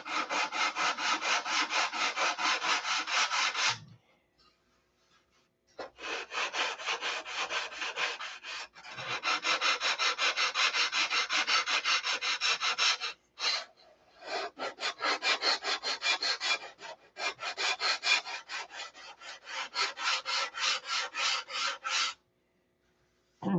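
Rhythmic sanding of wood with fine 3/32 stock, repeated rasping strokes in long bursts separated by brief pauses, close and alone.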